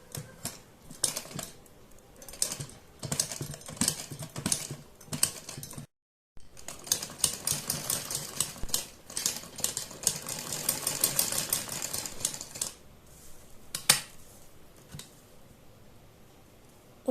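Sewing machine stitching along the neckline of a suit made from an old saree, rapid rattling runs of needle clatter in bursts with brief stops, close and fairly quiet.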